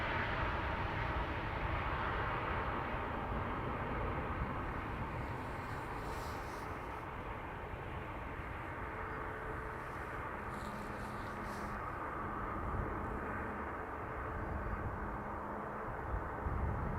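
Airliner taking off from Dublin Airport runway 28, a steady distant jet engine roar holding at a low level throughout, broad and rumbling with no talk over it.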